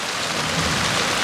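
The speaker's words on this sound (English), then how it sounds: "We have had rain all around us." Steady rain pours down outdoors, a dense even hiss of drops on surfaces with a faint low rumble underneath, continuous and fairly loud throughout with no voices.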